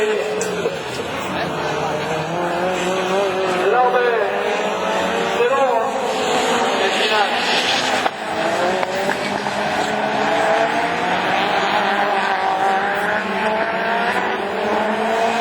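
Division 4 rallycross race cars at the Lavaré round of the 2012 French championship roar past, their engines rising and falling through gear changes with occasional tyre squeal over a constant loud din. Someone comments in French throughout.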